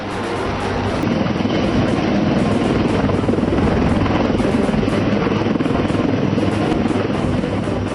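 A Dhruv helicopter, an Indian-built medium-lift military machine, flies overhead with a steady, loud rotor and turbine roar that holds constant throughout, with no voices.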